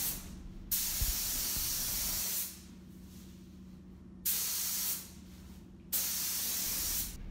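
A paint spray gun fed by a compressor at 90 psi, set to 15 to 20 psi at the gun, lays down a coat of paint in long, loud hissing passes with short pauses between them, close by and without speech.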